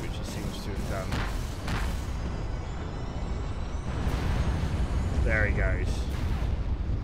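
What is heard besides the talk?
Galahorn main weapon firing, from the EVE video game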